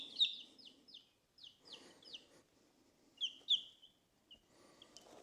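Baby chicks on a homestead peep in quick, high, bright bursts, several calls in rapid clusters with short gaps, close and clear over a quiet background; no one speaks.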